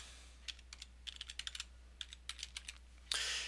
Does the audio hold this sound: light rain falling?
no